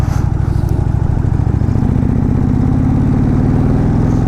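An Indian Pursuit motorcycle with an air-cooled engine idles up close, a loud, steady low-pitched rumble with a regular pulsing beat that holds continuously without pause or talk.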